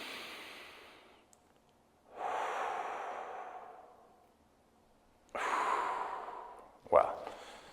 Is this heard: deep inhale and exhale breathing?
yes